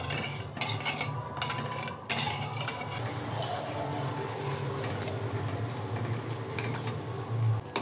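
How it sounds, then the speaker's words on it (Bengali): Sugar and water syrup for pantua boils in a kadai, giving a busy, crackling bubble and fizz that runs steadily at close range, with a few light metallic clinks and scrapes. "দেখুন রস টকবক করে ফুটছে"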